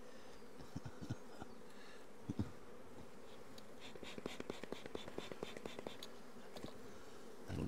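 Honey bees buzz in a close, steady drone as they are shaken off a drone-trapping comb frame from a hive in the Orara Valley, with sharp knocks and thumps from the shaking punctuating the hum.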